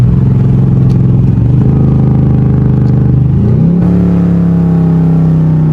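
A car engine drops a gear and blips its revs, its low steady drone stepping and sliding in pitch before settling into a higher sustained note, loud and close with no talk.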